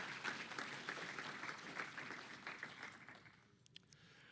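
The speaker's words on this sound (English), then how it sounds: "You deserve applause for that." Sustained audience applause fills a lecture hall, dense and steady for about three seconds before thinning out and fading, with a few scattered late claps.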